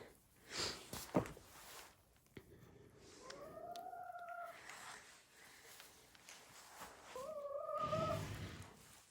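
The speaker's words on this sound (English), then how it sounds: "With all that meowing going on." Two drawn-out meows from barn cats several seconds apart over low rustling background noise, moderately close, with a few scattered thumps.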